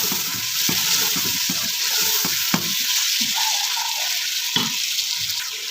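Chicken fries in a pan with tomatoes, ginger and green chillies, a constant close sizzle broken by intermittent spoon scrapes and clinks as it is stirred, no voices.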